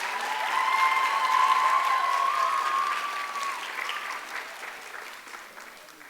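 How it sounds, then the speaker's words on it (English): Audience applause at a speech breaks out loud and full right away, then gradually thins and fades over several seconds, with a steady ringing tone running through the first half. "Can I get a big round of applause for Radhika?"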